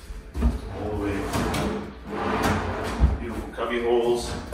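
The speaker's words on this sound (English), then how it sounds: "And also we have these nice big drawers." Large drawers in a modern home slide open and shut with soft thuds and rolling scrapes, repeated a few times under someone talking throughout.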